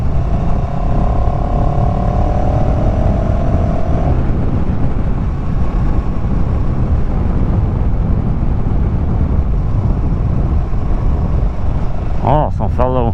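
Motorcycle engine rumbling steadily throughout, with a rising engine tone early on as the throttle opens, heavy wind buffeting, and a brief chirping sound near the end.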